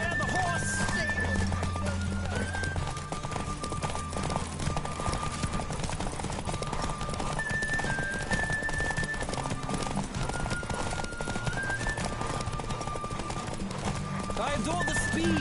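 Rhythmic hoofbeats of a galloping horse in The Witcher 3, with occasional whinnies, continuous and fairly loud against a busy backdrop of game sounds.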